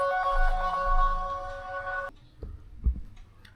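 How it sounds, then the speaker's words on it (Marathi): A melodic phone ringtone plays for about two seconds and then cuts off, followed by a few soft thuds and handling noises. "आत्ता सायलीचा फोन आलेला"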